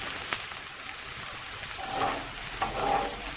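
Chopped onions frying and browning in a pan for shakshuka, with garlic about to go in; a steady soft sizzle runs throughout, swelling briefly with a couple of stirring clatters and no one speaking.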